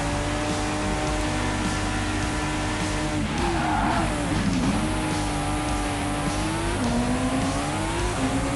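Ferrari Formula 1 race car in a video game at the Azerbaijan Grand Prix, its high-pitched engine whine holding steady then sliding and dipping as the car skids off the track, with tyre scrub mid-way, loud and continuous with no talk.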